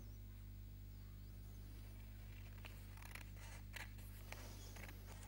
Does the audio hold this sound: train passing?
no